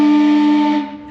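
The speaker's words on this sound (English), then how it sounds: "Big loud whistle. Watch ears, guys." A loud, sustained steam whistle blasts steadily with a hissing edge, then begins to fade toward the end.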